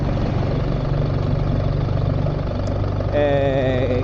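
A BMW GS 1300 motorcycle engine idling smoothly, a steady low hum with a faint rise in tone toward the end, heard alone and fairly close.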